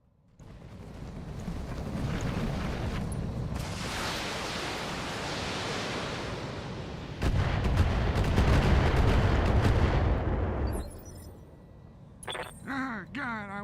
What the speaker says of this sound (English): my ally shoots the Strider with a bunch of machine guns